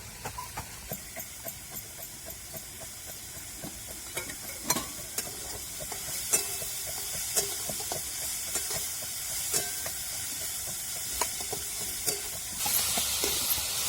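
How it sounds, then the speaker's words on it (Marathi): Chopped onion frying in a little oil in a pan, a steady close sizzle and hiss broken by regular scraping stirs, with the sizzle swelling louder near the end; no one speaks. "थोडस तेल पण टाकलेलं आहे कांदा परतायला आणि कांदा चांगला लाल चटक आपल्याला परतून द्यायचा आहे"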